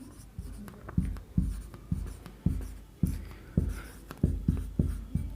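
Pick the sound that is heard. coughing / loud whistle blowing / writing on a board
writing on a board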